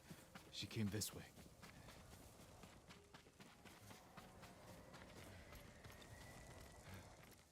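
Horse hooves clip-clop in a quick burst early on in Ghost of Tsushima Director's Cut, then fade into a soft steady background, fairly quiet throughout.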